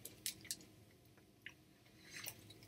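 Crunchy peanut butter chocolate candy bar being chewed close up, a few sharp crunchy bites scattered among quieter soft mouth sounds.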